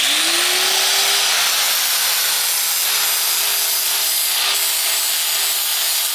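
Steady abrasive rubbing on a titanium exhaust surface being cleaned ahead of welding, a continuous loud scrubbing with no pauses and no talk.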